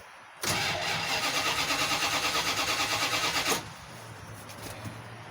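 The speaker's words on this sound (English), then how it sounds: "I'm going to turn it over, get the fuel pump working." Cold start of a 1988 Dodge D350 tow truck: about three seconds of rhythmic, close starter cranking, then it drops to a quieter, uneven low rumble.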